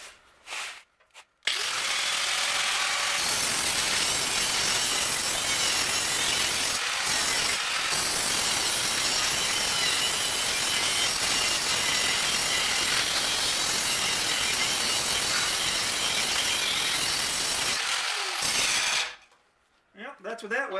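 A power cutting tool grinds through a weld on a Nissan Hardbody truck, a loud continuous harsh whine running for about sixteen seconds, starting and stopping abruptly with brief quiet at both ends.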